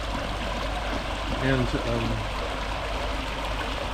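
Steady rushing and trickling of low water flowing over rocks runs throughout, with a voice speaking briefly over it near the middle.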